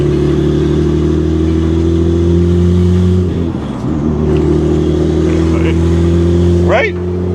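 BMW E60 with the N54 engine, reportedly driving with no brakes: a loud, steady engine drone heard from inside the car, with a slight dip and resurge as it accelerates, and voices talking over it.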